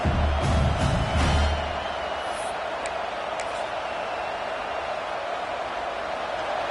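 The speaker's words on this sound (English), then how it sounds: "This crowd, full throat, splitting the eardrums" Stadium crowd at a football game roars in a broad, steady wash, louder at first and then settling into a sustained full-throated din, with faint whistles and shouts above it.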